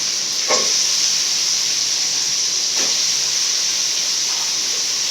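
Pirandai sautéing in plenty of hot oil in a pan, giving a steady loud sizzling hiss throughout, with a couple of faint scrapes from stirring.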